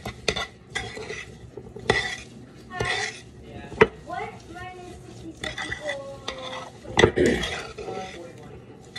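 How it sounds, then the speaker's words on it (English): A spoon stirs sugar into a bowl of jalapeno and cranberries, with repeated scraping strokes and light clinks against the bowl, close and fairly quiet, while a voice talks briefly. "I like to stir it until like the sugar looks like it's really gotten really wet"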